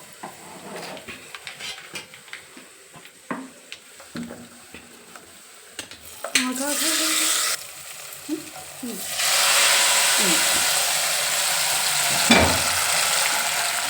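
A tempering is poured into hot oil for ginger chutney and sizzles loudly. Scattered clinks of pots and utensils come first, then the hot oil crackles in a sustained burst, fades briefly, and swells again into a long, intense sizzle up close.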